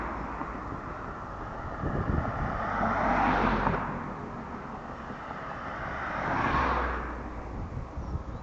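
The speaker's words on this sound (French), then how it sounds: "Il y a de la circulation." Road traffic passing near a bridge on a small path: two vehicles swell and fade one after another as a steady rumbling whoosh, with wind noise throughout and no talk.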